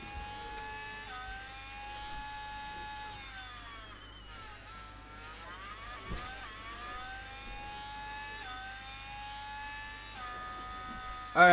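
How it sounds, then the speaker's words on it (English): A high-pitched 2024 Renault Formula 1 power unit in a video game whines steadily, pitch rising and falling through gear changes and revs, continuous and moderately quiet with no voices. "I'll leave you with the beautiful engine noises of the 2024 Renault Power Unit"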